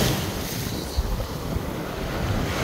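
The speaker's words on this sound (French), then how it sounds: "Il y a vraiment beaucoup de vagues" Ocean waves at Miami Beach rush and churn steadily, mixed with heavy wind buffeting the microphone, loud and close with no pauses.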